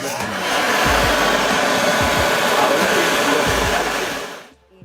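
A motor-driven blower roars steadily, pushing air through compost piles for forced aeration, with low thumps underneath before it cuts off near the end.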